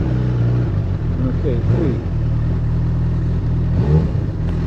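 A Honda CB1000R motorcycle engine idles loud and steady, with two brief revs rising and falling near the two-second mark and again near four seconds, while someone speaks briefly over it.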